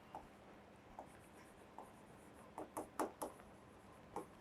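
A marker or chalk scratches out words on a board, quiet short strokes and taps in an irregular rhythm that grow denser toward the end, close and faint with no talking.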